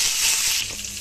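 Cumin, fennel seeds and curry leaves sizzling in hot oil with crushed mustard, a steady close crackling hiss that eases slightly toward the end, no voices.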